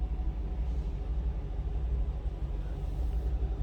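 A 2019 Chevrolet Camaro 2SS convertible engine idles in a low, even rumble, steady and moderately close with no talking.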